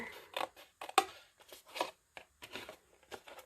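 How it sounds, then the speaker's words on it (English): Scissors snip through paper in short separate cuts while trimming a junk journal pocket, close and quiet with gaps of silence between each snip. "I'm going to cut this off right here"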